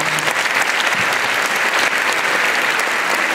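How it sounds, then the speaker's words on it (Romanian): Steady, dense applause from a large audience honouring an archbishop, Ioachim Băcăuanu, continuing unbroken at an even level throughout with no voices over it. "l-aș aplauda pe arhiepiscopul nostru, Ioachim Băcăuanu"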